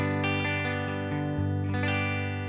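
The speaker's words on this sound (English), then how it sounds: "So it's just a good all-around reverb." An electric guitar runs through the all-round reverb effect on a Headrush MX5 floor processor, with sustained chords ringing out in a washy, lingering tail and steady level throughout, no voices present.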